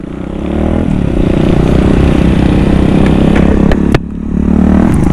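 A Kawasaki KLX 150 BF dirt bike engine runs loud and close, revving with a rough, rattling drone and a brief dip near the end before picking up again.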